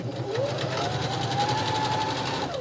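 Sewing machine stitching hat pattern pieces, running in a fast, even rhythmic whir for a few seconds close by, with a faint rising tone over it and no speech.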